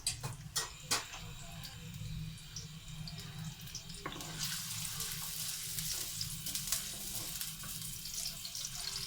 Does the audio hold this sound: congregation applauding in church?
no